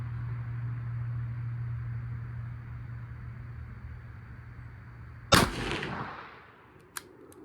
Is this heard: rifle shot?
yes